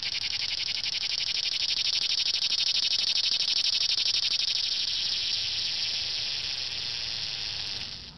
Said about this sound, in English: the noise is just the male cicadas singing to attract mates